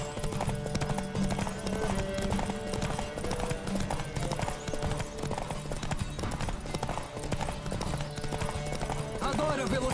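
Horse hooves clip-clopping at a steady gallop in The Witcher 3, a continuous rhythmic drumming under game music and occasional voices, close and fairly loud throughout.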